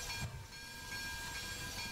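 Steady rumble and hiss of a Pennsylvania Railroad S1 steam locomotive under way in Train Simulator, a continuous moderately loud roll with steam hiss and no speech.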